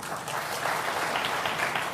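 A studio audience at the Aap Ki Adalat TV show, with Raj Thackeray as guest, claps in a steady, dense wash of applause that stays even and moderately loud for two seconds.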